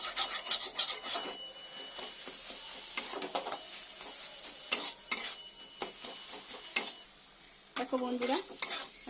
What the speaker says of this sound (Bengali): আমি ডিমটা দিয়ে ভালো করে একটু কষে নিয়েছি।